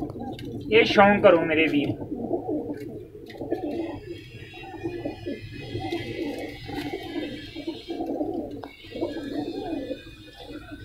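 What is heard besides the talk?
pigeons cooing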